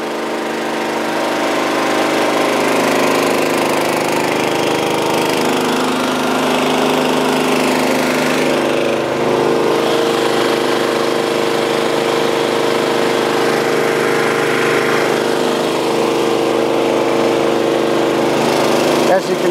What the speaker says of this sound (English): we're only cutting and beveling the pipe and grooving one side